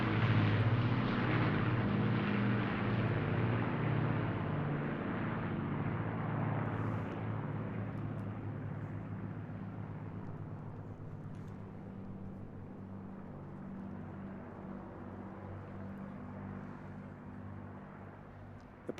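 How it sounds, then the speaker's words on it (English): A four-engined Lancaster bomber with Hurricane fighters passing overhead at a seaside airshow in Eastbourne, a loud, steady piston-engine drone that slowly fades as the aircraft move away. "Flying in now from the right to be overflown by the Hurricanes as they go through their traditional victory roll"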